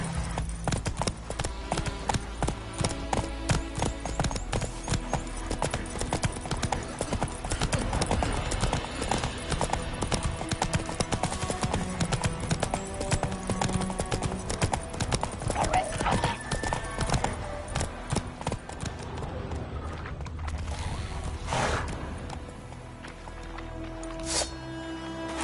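Geralt's horse Roach in The Witcher 3 galloping, rapid rhythmic hoofbeats running steadily near and loud, with a whinny near the end and game sound effects mixed in.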